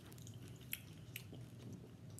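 Soft, close chewing of a Rice Krispies treat, faint wet crunching and squishing with a few sharper bites, no talking.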